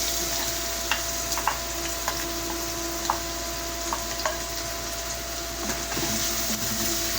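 Onion and garlic frying in a pan slicked with a little leftover oil, a steady close sizzle running throughout with faint scattered clicks and stirring taps, no talking.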